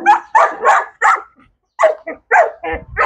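A nervous husky dog barks and yips close by in a quick series of short, sharp barks with brief pauses between them.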